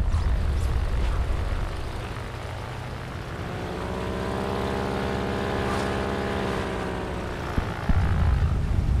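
A repaired propeller warplane engine from World of Warplanes drones steadily at close range, with a loud, continuous, harmonic whine that rises and falls in pitch through the middle and ends in a brief clatter.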